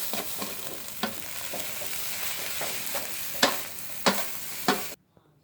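Vegetarian egg fried rice stir-fried in a pan, a continuous close sizzle broken by sharp spatula scrapes and knocks that grow louder before cutting off abruptly into silence.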